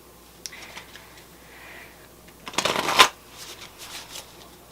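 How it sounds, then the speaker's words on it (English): Tarot cards being shuffled by hand in a quiet room, a dense riffling burst rising to a loud flurry near the end, with lighter scattered card taps before and after. "I want to shuffle them 3 times."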